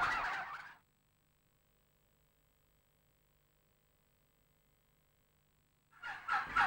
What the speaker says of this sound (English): These are also premium-priced bronze turkeys.